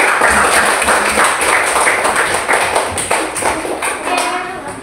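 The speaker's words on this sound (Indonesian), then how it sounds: "Kasih semangat dulu, tepuk tangannya." A fifth-grade school class claps together, a steady run of quick palm taps filling the room, fairly loud and continuous, with a few voices faintly mixed in.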